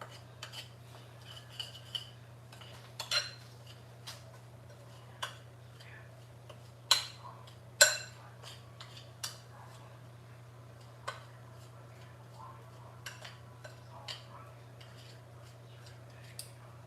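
Peaches and their juice stirred in a baking dish, with scattered spoon clinks and scrapes against the dish, sharp and irregular, over a steady low hum in a quiet kitchen.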